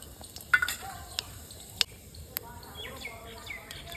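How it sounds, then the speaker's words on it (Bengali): Cumin seeds hitting hot mustard oil give a soft, steady sizzle with a few sharp clicks of a utensil against the pan, fairly quiet and close. "তারপরে তো সর্ষের তেল দিয়ে দিচ্ছি পরিমাণ মতো আমি জিরে দিয়ে দিচ্ছি"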